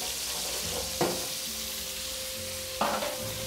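Rabbit pieces searing in a hot pan for a rabbit stew give a steady, close sizzle, with two brief utensil clacks and stirring scrapes cutting through it.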